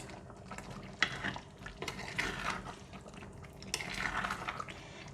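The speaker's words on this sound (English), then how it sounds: "Give it a mix." Egg tofu and luffa are stirred in a clay pot with spring onions, giving soft wet scraping strokes and gentle liquid sloshing in a few distinct bursts, close and fairly quiet, with no talking.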